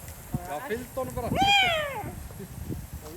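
A person imitates a cat, giving a drawn-out, rising and falling meow with a few shorter mewing sounds around it, close and clear.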